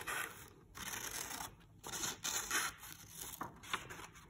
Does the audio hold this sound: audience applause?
no